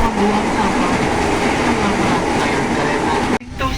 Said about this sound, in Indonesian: KRL baru aja sampai di stasiun Serowot.